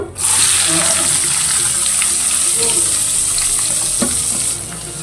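Chopped onions with curry leaves and asafoetida sizzling steadily in hot oil in a pan, a loud continuous frying hiss with occasional stirring scrapes, no voices.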